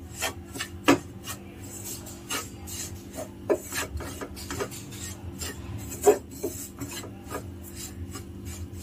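Sugar mixture being stirred in a pan on the stove for somas, a spoon scraping and rasping against the pan in irregular strokes with occasional sharper clinks, close and fairly quiet, no talking.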